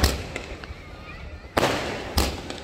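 A 120-shot Diwali sky shot firework bursts outdoors, with sharp loud cracks and booms at uneven intervals over a continuous crackling fizz.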